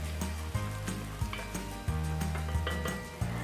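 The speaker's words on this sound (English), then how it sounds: "Now we'll saute this for about 30 to 40 seconds for the ginger and garlic to give up the raw flavor." Ginger garlic paste and whole spices sauté in hot oil for an Ambur mutton biryani, a loud steady sizzle broken by repeated clinks and scrapes of a utensil stirring against the pan.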